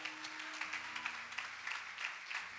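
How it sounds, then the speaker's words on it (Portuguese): A church congregation claps in a steady, rhythmic beat during a Communion service, fairly faint, over a soft low musical tone. "Vamos aplaudir ao Rei."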